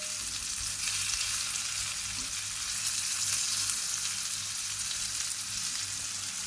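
Goan-style prawns frying in a pan, a dense, continuous sizzle at even loudness throughout, close and without voices.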